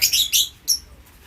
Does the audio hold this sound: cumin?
no